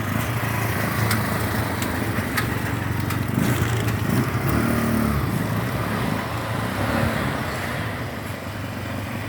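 The engine of a 150cc motor tricycle runs loudly and close by with a steady, buzzing rumble that eases slightly toward the end, and no voices are heard.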